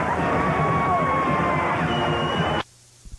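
A stadium crowd of some 96,000 at a 1995 Ohio State versus Penn State college football game roars in a broad, loud wash of cheering that cuts off abruptly near the end, leaving near silence.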